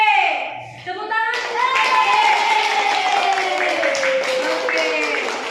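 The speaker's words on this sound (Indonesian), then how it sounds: "Tepuk tangan" A classroom of children claps for a group presentation, a brief burst of scattered applause that builds after a teacher's short spoken cue, with faint kid voices mixed in.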